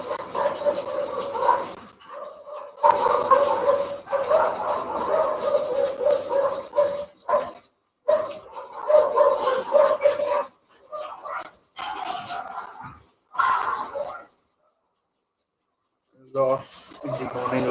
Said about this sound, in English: a lot of dogs barking